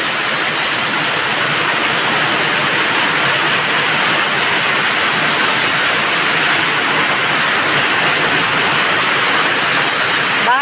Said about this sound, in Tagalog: Basa pa yung malakas ang ulan.